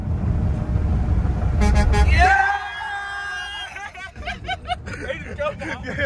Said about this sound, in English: See if you'll honk.